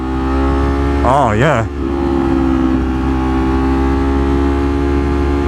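A Ducati motorcycle engine drones steadily while riding, a loud continuous hum with wind rush, briefly overlapped by a rider's voice.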